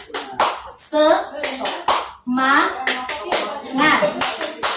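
A group of women does a rhythmic clapping chant during a child-rights training session, sharp hand claps landing in quick patterned bursts mixed with voices calling out and chanting together, fairly close and lively.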